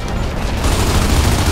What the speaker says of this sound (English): and the shop exploded